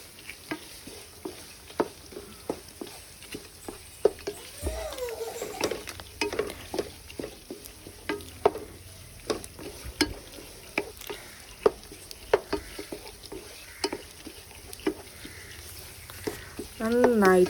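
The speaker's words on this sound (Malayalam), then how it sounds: "നന്നായിട്ട് മഞ്ഞൾപ്പൊടി ഇതിലിട്ട് മൂപ്പിച്ചെടുക്കണം" Turmeric powder is sautéed in a pan for a homemade pickle, a low sizzle under frequent sharp spoon taps and scrapes against the pan, with a voice briefly audible near the end.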